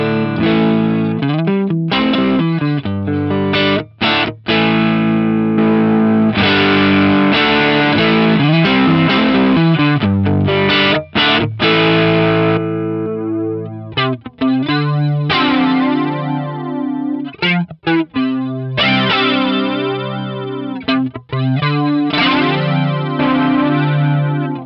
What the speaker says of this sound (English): I've got the Electric Mistress flanger model in here